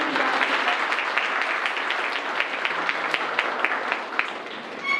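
Audience applause at a law college degree distribution ceremony, a steady few seconds of many hands clapping at moderate loudness, thinning slightly at the end, with no speech over it.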